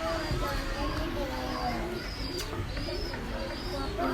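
Pet pigeons of the Teddy and Choisa types coo in soft, repeated low calls close by, with some chirps mixed in and people talking over steady background noise.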